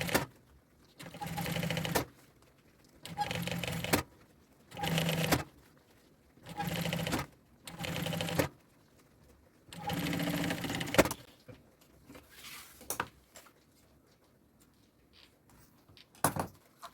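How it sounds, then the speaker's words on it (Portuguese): A sewing machine stitches synthetic leather for a draped bag in repeated short runs of one to two seconds, close by, separated by pauses with faint handling and fabric sounds. "Vou costurar aqui meio pé de máquina"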